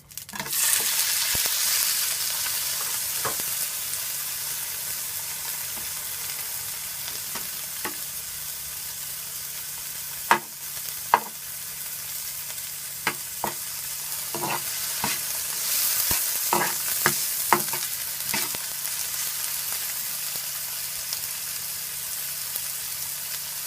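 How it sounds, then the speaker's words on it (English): Tomato and onions fry in hot vegetable oil in a pot, giving a continuous close sizzle broken by scattered sharp scrapes and clicks from stirring. There is no talk. "So now I'm gonna add my tomato and my onions."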